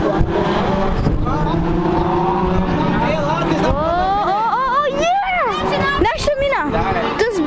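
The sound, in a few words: race car driving past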